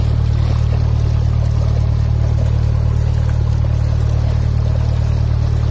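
A narrowboat engine labours through silty, weedy canal water, giving a loud, constant low drone and hum throughout with no talking.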